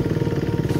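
A motorcycle engine running in third gear, a steady, close, loud mechanical drone with a fast regular pulse throughout.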